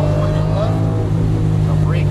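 Lamborghini Aventador engine pulling hard down a hill on a Las Vegas race track, a loud steady drone heard from inside the car while an instructor talks over it.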